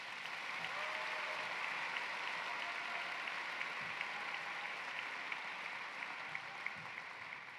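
A crowd applauds at the Rock Canyon High School 2026 graduation ceremony. The clapping is soft and distant, a steady hiss of many hands that continues evenly for several seconds.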